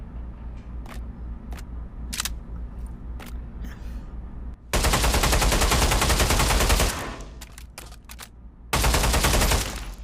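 AK-91 automatic rifle fired in the Pavlov Shack video game: two loud full-auto bursts of about two seconds each, preceded by sharp single clicks and handling noises.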